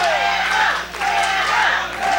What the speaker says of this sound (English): This crowd never left Trevor Lee's side